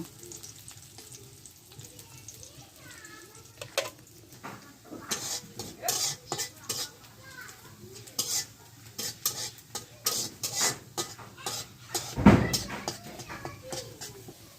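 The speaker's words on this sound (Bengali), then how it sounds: "এখন খুঁজে দিয়ে নাড়াচাড়া করবো যেন পেঁয়াজগুলো খুব সুন্দরভাবে সিদ্ধ হয়ে যায়" Onions fry in a wok, with a soft continuous sizzle under repeated scraping stirs that come in quick, uneven strokes, plus one louder clatter near the end.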